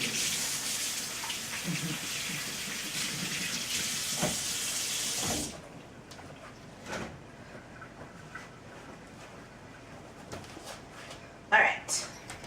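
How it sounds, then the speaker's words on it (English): A kitchen tap runs while hands are washed under it, a steady hissing rush of water that stops abruptly midway, followed by faint clatters and a louder knock near the end. "I'm going to wash my hands because now I'm covered in blueberries."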